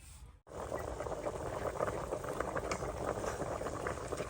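A pot of soup bubbles at a steady boil over a charcoal fire. After a brief dropout near the start, the close, even bubbling and gurgling carries on to the end with no voices.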